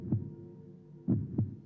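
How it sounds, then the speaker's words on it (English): A muffled heartbeat thumps in a low, dull double pulse, one beat near the start and a close pair about a second later, soft and isolated over a faint hum. "for many minutes the heart beat on with a muffled sound"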